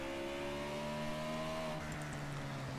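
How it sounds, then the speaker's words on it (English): A race car's engine hums steadily as it coasts through corners on a racing circuit, its tone easing slightly lower partway through, moderately loud and steady with no talking. "Listen to that engine."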